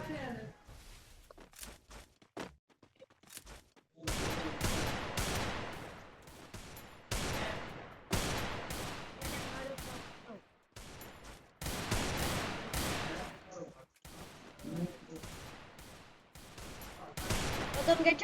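Gunfire in a mobile shooter game rings out in rapid sharp bursts and single shots across the round, with players talking over the action.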